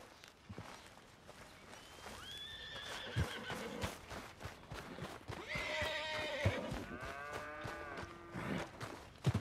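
Horses in Red Dead Redemption 2 whinny and neigh repeatedly over a steady clip-clop of hooves, with snorts and lowing cattle mixed into an outdoor ranch scene.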